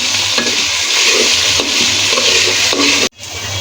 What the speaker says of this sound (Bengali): এখন এটা বলে কষানো হবে